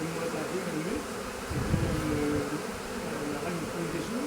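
A honeybee swarm settled on the drawbar of a farm trailer hums with a dense, continuous buzzing, close and fairly loud, with individual bees whining past in wavering tones throughout.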